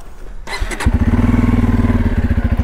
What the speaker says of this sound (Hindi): जैसे ही न्यूट्रल होगी तुरंत स्टार्ट कर दूंगा मैं